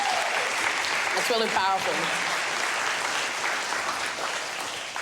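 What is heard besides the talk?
audience applause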